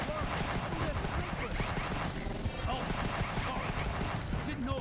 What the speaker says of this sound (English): Shotgun shots.